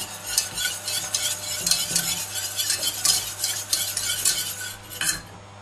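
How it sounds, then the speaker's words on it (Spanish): Couscous is stirred into rice milk in a small saucepan, a spoon scraping and clinking against the pan in a quick, continuous rhythm, close and fairly loud with no talking. "En una cazuelita como esta, diluimos el cuscús con leche de arroz."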